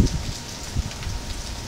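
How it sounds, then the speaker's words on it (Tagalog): Steady rain on a mountain outing in bad weather, a soft continuous hiss of falling drops with a few louder patters at the start, no voices. "Nakakalungkot dahil umuulan."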